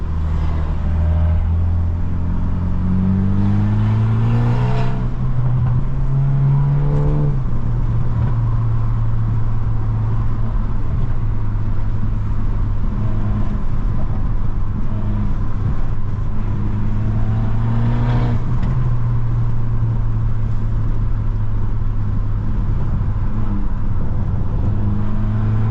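A straight-piped BMW 320i with a stage 2+ tune, heard from inside while driving, drones loud and steady, its exhaust note climbing and falling as the car accelerates, shifts and cruises, with no talk throughout.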